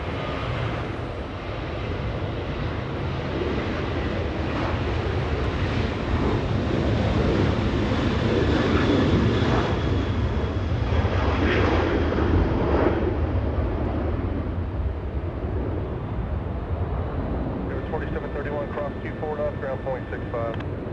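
Jet engine roar from a Virgin Atlantic Dreamliner near runway 24 left at Los Angeles International Airport, a steady loud wash of turbine noise with wind buffeting, and someone talking over it.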